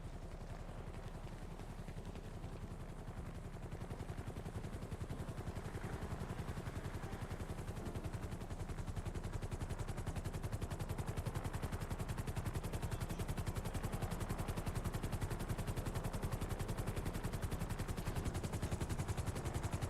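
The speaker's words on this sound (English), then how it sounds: "that's where the helicopter's going to land" A helicopter in a video game thumps with rapid, even rotor chop that holds steady and grows slightly louder, a continuous mechanical beat with no talk.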